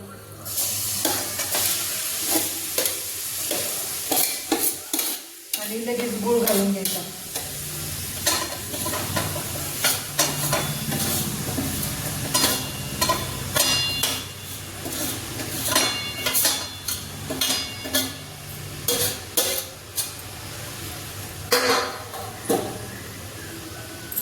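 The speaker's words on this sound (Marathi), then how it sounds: "आता हे आपल्याला छान गुळ वितळेपर्यंत छान असं परतून घ्यायचं आहे" Grated pumpkin stirred and fried in ghee with jaggery in a hot wok: a steady sizzle runs throughout, broken by repeated scraping stirs of the spatula, close and fairly loud, with no talking.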